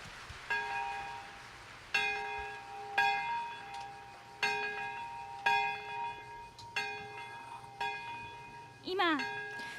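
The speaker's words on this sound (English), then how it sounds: "the bell of Nagasaki is ringing with our strong prayer for eternal peace" The Nagasaki peace bell tolls slowly and repeatedly at the Nagasaki Peace Ceremony, about eight strikes a few seconds apart, each ringing out with long resonant overtones; a brief bird-like chirp near the end.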